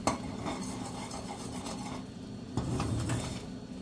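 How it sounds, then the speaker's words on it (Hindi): A spoon stirs a pot of creamy wholewheat mushroom soup made with milk, with soft continuous scraping and rubbing against the pot bottom and a faint clink near the end, close and quiet. "नीचे से आप इसको एक बार फिर चला लीजिए अच्छे से चलाना है"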